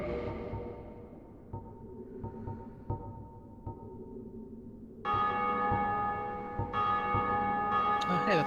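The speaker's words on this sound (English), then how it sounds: "Hear the bell ringing?" A church bell rings, first as a few faint, spaced strikes, then as a louder, sustained resonant peal swelling over the final seconds.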